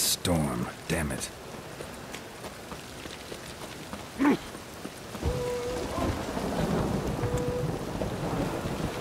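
Thunderstorm in The Witcher 3: Wild Hunt, with rain hissing steadily throughout and a sharp rumble of thunder rising midway, while voices speak over the storm at the start.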